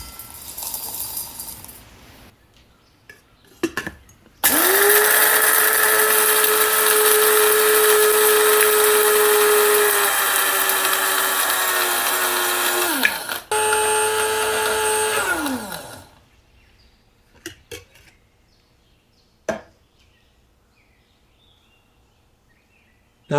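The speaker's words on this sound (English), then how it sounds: "Use a spice grinder to grind our dry aromatics to a fine powder." Spice grinder whirring dry aromatics into fine powder for Goan chicken vindaloo, a steady loud motor whine running several seconds, a brief stop, then another short burst before falling silent amid faint clatter.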